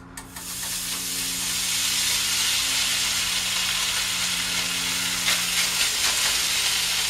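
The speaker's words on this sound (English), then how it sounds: "So you're going to hear the sizzle again." Potatoes sizzle steadily in browned butter in a pan, a continuous close hiss of frying that swells slightly toward the end with a few brief crackles.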